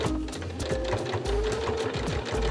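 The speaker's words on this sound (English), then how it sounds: "I'm adding a little row of stitching to use as a gathering thread" A sewing machine stitches trim onto the hem of a costume, running steadily with a fast mechanical rhythm and brief pauses between close, loud bursts.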